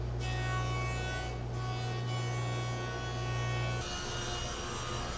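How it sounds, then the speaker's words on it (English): A jointer squares up the edge of a wood board, a loud steady machine hum with a rasping cut that shifts in tone partway through, with no talking over it. "I took my time at the joiner squaring it up"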